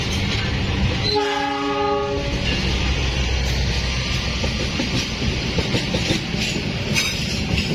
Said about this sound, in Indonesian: Kita disusul lagi oleh kereta api Argo Wilis